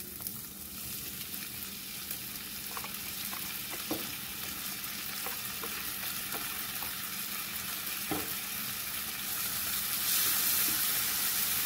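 Onion and tomato fry in a pan with a steady close sizzle and occasional stirring clicks, growing a little louder and hissier toward the end, with no talking.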